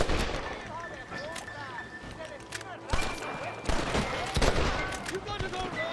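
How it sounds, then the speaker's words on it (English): Gunfire in the video game Red Dead Redemption, with rapid bursts of shots and sharp cracks layered over game noise while voices shout in the background. "They're shooting down on us!"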